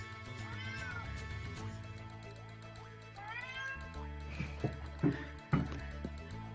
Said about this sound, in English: Sorry, my cat's complaining at me.